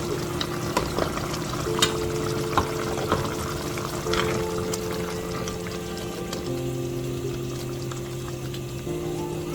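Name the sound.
adding blended crayfish and ground fish to eggplant stew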